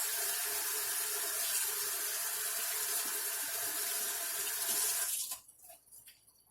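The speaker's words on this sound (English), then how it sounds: "So I'm just washing my hands." A faucet runs steadily in a sink with a broad rushing hiss for about five seconds, then shuts off, leaving quiet drips and faint handling.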